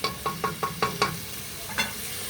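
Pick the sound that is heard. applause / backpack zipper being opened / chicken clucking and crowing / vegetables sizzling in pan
vegetables sizzling in pan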